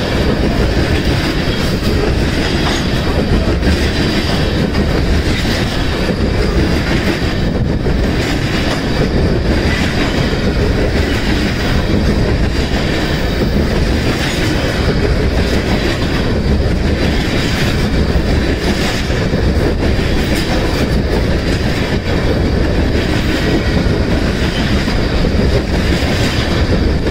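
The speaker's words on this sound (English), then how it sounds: "Norfolk Southern Trains 65H, Winsboro, South Carolina." Norfolk Southern freight train 65H rolling past at Winsboro, South Carolina: a loud, steady broadband rumble of railcars with continuous wheel clatter and faint squeal, sustained throughout with no voices.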